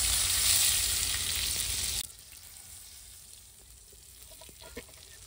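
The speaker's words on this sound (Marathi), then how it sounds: "एक साईड तळले. आता दुसऱ्या साईडने पण मी तळून घेते." Mackerel fish coated in flour shallow-frying in a pan produce a loud, dense sizzle for two seconds, then a much quieter crackle with a few small pops.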